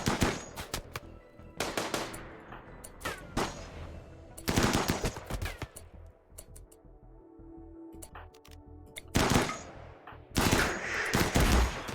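Repeated rifle shots and bursts of gunfire from a RimWorld firefight involving a bolt action rifle, sharp loud cracks in clustered volleys separated by brief quieter gaps.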